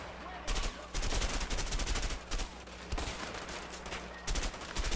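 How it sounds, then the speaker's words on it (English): Bursts of automatic gunfire from a shootout in the action game A Way Out, loud rapid volleys broken by short pauses, with heavy low-end thumps throughout. "I don't even know what I'm shooting at."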